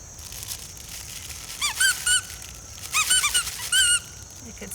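A squeaky dog toy squeezed near a poodle during a training session, producing two clusters of sharp, high-pitched squeaks in quick rhythmic bursts against a quiet room.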